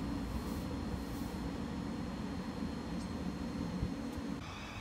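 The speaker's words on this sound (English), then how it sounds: "Now leaving on its way to London Bridge is the 1117 Thames Link service" A Thameslink train bound for London Bridge pulls out of Haywards Heath station, a steady broad rumble of wheels and motors heard from the platform at moderate distance, with no voices.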